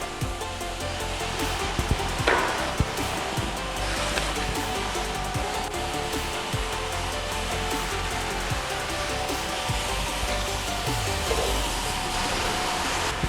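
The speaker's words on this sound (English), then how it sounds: "We're using a scrubber dryer that is lower down on the pricing bracket." Numatic cordless scrubber dryer cleaning a sticky bar floor, a continuous loud whirring motor drone with rushing, watery brushing noise and occasional knocks, heard close up.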